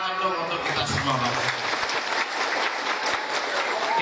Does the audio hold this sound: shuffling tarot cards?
no